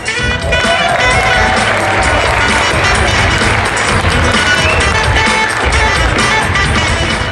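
A theater audience at the Music Box Theater in the Borgata, Atlantic City, applauds and cheers a comedian coming onto the stage, a dense, steady wash of clapping and crowd noise throughout.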